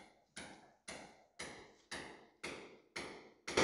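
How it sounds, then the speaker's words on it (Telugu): Hammer blows ring out from house construction going on in a residential area, seven sharp metallic strikes at a steady, unhurried pace, moderately distant and heard alone. "చుట్టూ చూడండి ఏ విధంగా కన్స్ట్రక్షన్స్ జరుగుతున్నాయో."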